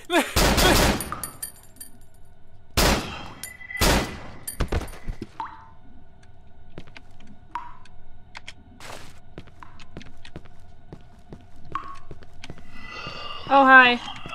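Gunfire in the horror video game Cry of Fear: a few loud, sharp shots crack early on, then scattered thuds, footsteps and small game noises follow, with a burst of clattering near the end.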